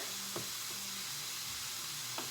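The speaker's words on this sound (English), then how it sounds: "And my risotto is simmering, so I'm going to give it a little stir here." Cauliflower-rice risotto simmers softly in a pan with a faint, steady sizzle and hiss, while a spoon stirs through it with a couple of quiet scraping strokes.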